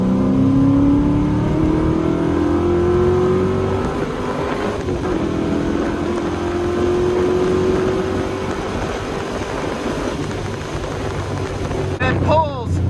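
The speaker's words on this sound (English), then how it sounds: "So like I said, we're going up an on-ramp in second gear and let's nail it. That was really smooth, so let's try a third gear pull." Car fitted with Holley Sniper EFI accelerating hard in third gear, a loud close engine drone climbing steadily in pitch with road and wind noise, ending in a brief burst of other noise near the end.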